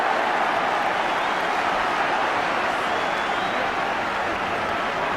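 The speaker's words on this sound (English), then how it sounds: "The last cheer you heard was because Kenny Dalglish made the first of what may be a number of warm-up runs along the touchline." Football crowd at a 1986/87 Leicester v Liverpool Division match, a steady, dense roar of cheering from a large stadium audience, continuous throughout without distinct breaks.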